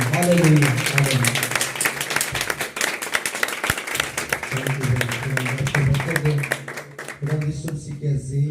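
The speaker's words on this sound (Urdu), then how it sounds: "خدا کے خادم کا زوردار تالیوں کے ساتھ استقبال کریں گے" Congregation at a church sermon applauding loudly to welcome the preacher, dense sustained clapping that fills the space, with a voice speaking over it throughout.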